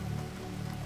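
Steady rain falling during a storm, a soft even hiss of drops over a low rumbling bed, continuous and fairly quiet throughout the short stretch.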